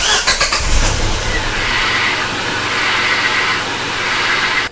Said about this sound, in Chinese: 像这个声音呢，来自于这个分离轴承响的。